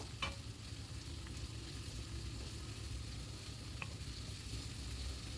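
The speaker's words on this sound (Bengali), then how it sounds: "সেই পেঁয়াজটা আমি এর মধ্যে দিয়ে দিচ্ছি আবারও একটু নেড়ে চেড়ে নেব" Grated onion frying with pieces of catla fish in a pan, a quiet continuous sizzle with a couple of faint stirring clicks, no one speaking.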